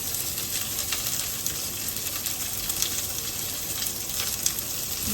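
Garlic and onion sauté with reddened meat for pinakbet, a steady, close frying crackle and hiss that runs evenly for the whole stretch with no talking over it.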